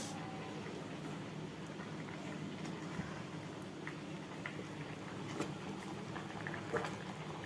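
Drumstick curry bubbling in a pot on the stove, a steady close simmer with constant burbling and occasional small pops throughout, no voices.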